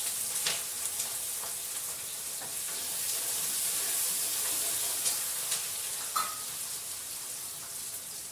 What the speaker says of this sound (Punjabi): ਤੇਲ ਗਰਮ ਹੋ ਗਿਆ ਆਪਣਾ ਤੇ ਆਪਾਂ ਜੀਰਾ ਪਾ ਕੇ